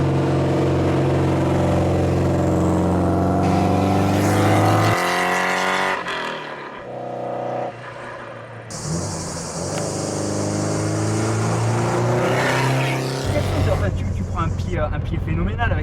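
Peugeot 205 Turbo 16 Group B rally car driving, its engine loud and close, revving up in strong harmonic surges with abrupt pitch drops at gear changes before climbing again.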